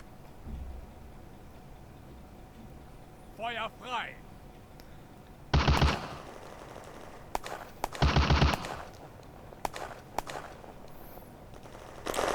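Bursts of automatic gunfire in the war video game Firefight, two short loud volleys and scattered single shots, with French-speaking players talking over the game audio.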